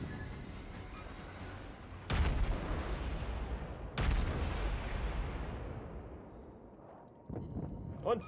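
Warship cannon salvos boom in World of Warships, two loud blasts a couple of seconds apart with rumbling decay, then a third shot near the end, heard fairly close during naval gameplay.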